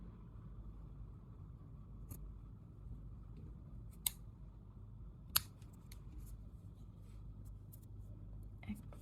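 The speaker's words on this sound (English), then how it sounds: "Now I will cut the thread." Scissors snip crochet thread after finishing a round on a small crocheted earring, a few sharp isolated clicks over a steady low background hum, with no talking.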